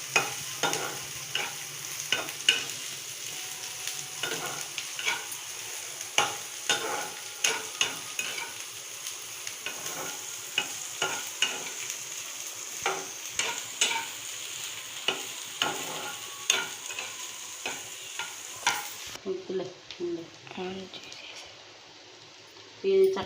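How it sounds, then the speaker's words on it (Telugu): Chopped onions for a cabbage chutney frying in a pan while being stirred, a constant sizzle broken by repeated scraping spatula strokes, with a person talking over it, and the sizzle dropping away near the end. "ఈ పచ్చి ఉందంతా పోయి ఎర్రగా ఉల్లిపాయ మగ్గిపోవాలి"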